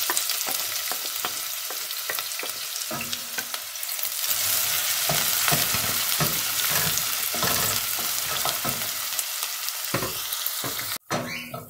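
Chopped onions and peppers sizzle loudly in hot olive oil, with frequent scraping and stirring clatters from a utensil and a sharp knock near the end.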